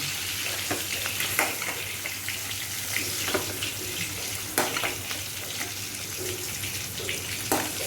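An egg frying in a pan for egg and potato curry, a steady crackling sizzle with occasional sharp pops and spits, close, over a low steady hum and faint water-like clatter in the kitchen.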